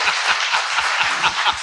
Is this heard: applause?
yes